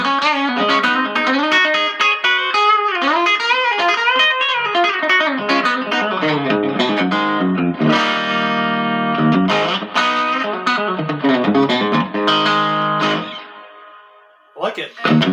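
Electric guitar through an amp set with reverb, playing sustained chords and melodic lines that ring out with a wet, spacious tail, loud and close, with a brief dip near the end before picking up again.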